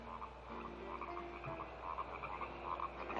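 Frogs croaking in a chorus, rapid overlapping calls that keep going at a moderate, fairly close level with no voices.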